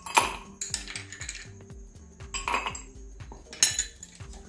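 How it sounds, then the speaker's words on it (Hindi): Ice cubes dropped into a glass while serving aam panna, several sharp clinks and rattles in quick bursts, close and fairly quiet, with no talking. "ग्लास में हम आइस क्यूब डालेंगे।"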